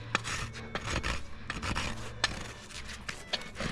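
A hoof rasp strokes back and forth across a horse's hoof wall to file a bevel, giving close, rhythmic rough scraping passes with brief gaps between strokes.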